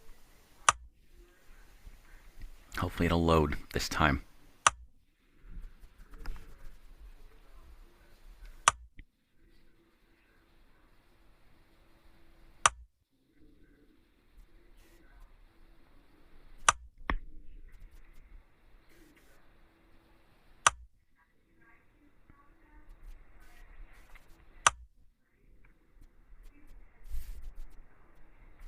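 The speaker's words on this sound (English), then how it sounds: "You'll hear the clicking noises again." Sharp clicking ticks from the JAWS screen reader on a computer as a page loads, sounding singly every few seconds over quiet room noise, with a brief speech burst near the start and a person talking softly in between.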